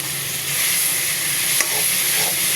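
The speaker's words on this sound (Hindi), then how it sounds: "इसको भून लेंगे।" Chicken with tomato paste frying in a pot for rice pilaf, a loud continuous sizzle and hiss close up, with soft scraping as the mixture is stirred.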